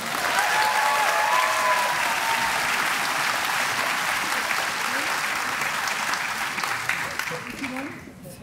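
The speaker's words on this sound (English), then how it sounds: "Clap for them again." Sustained applause from a large audience at a 2023 Blackstone-Millville Regional High School graduation ceremony, dense and loud throughout, tapering off near the end. Faint voices rise above the clapping early on.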